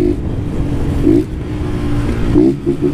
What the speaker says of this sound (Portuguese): curte o corte de giro dela, né?